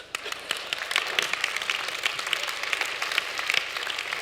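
A standing audience at a leadership and health talk gives a moderate round of applause, scattered distinct claps blending into a steady patter at a fair distance.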